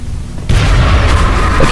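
A grenade goes off in the video game XCOM Long War, a sudden loud boom that swells into a rolling, rumbling blast after a quiet opening.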